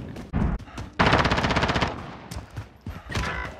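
Automatic gunfire in Call of Duty: Modern Warfare, with a short opening burst followed by a long, loud rapid stream of shots and a few scattered bursts after, close and punchy.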